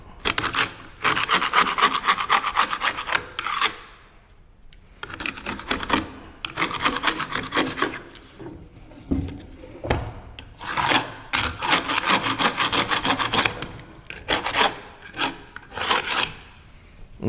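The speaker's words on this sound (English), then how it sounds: "let's go get a scraper. And we're gonna scrape this off." A hand scraper scrapes dried glue off a wooden board being prepared for a herringbone box, in long rasping strokes that come in several bursts separated by short pauses.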